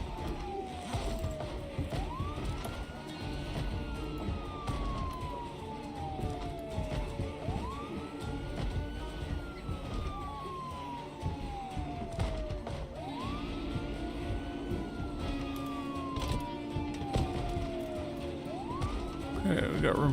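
A wailing siren in the Project Zomboid video game rises and slowly falls in long repeating cycles, sounding distant behind steady game noise and occasional talk.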